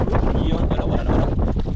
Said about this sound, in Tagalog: Parang naglakas naman yung hangin ah.